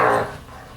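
A dog gives a short, close bark that trails into a whiny yelp, brief and loud indoors over toys, then fades into quiet room noise.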